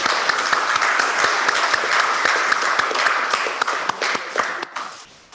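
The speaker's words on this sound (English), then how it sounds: "Please welcome Mr. Jindal with a round of applause" Applause from an audience welcoming Sajjan Jindal at an ICC annual session fills the hall, dense, even clapping holding steady for several seconds before thinning out.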